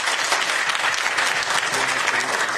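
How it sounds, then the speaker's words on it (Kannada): Steady, dense audience applause for Raghu on a Kannada TV entertainment show, loud and continuous with faint crowd murmur underneath. "ನಮ್ಮ ರಘುವಣ್ಣ ಜೋ ಚಪ್ಪಾಳೆ ಅವರಿಗೆ"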